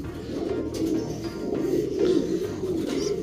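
Pigeons coo in soft, repeated low throaty phrases, several overlapping calls rolling steadily throughout at close range.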